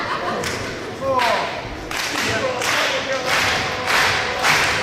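Fans at a live independent wrestling match clap in bursts to rally a wrestler, the crowd noise swelling in waves with thuds from the ring and a commentator talking over it.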